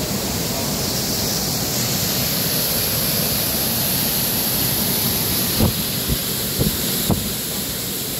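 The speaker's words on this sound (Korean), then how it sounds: "또 하나의 폭포를" Waterfall in Yonggu gorge at Juwangsan, Cheongsong, Korea: a steady, close, full-bodied roar of rushing water, with a few soft knocks near the end.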